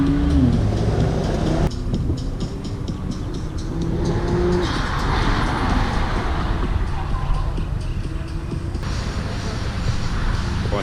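A sports car roars at speed around a racetrack, its engine a steady, loud drone with shifting pitch throughout, with no voices.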